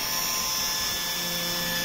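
A Comgrow mini CNC router drills holes in a PCB with a continuous high-pitched spindle whine and a faint mechanical hum. The sound is steady and close, with no voices.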